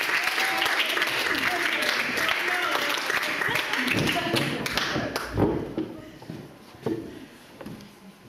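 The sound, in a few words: audience applause for performer Kimberly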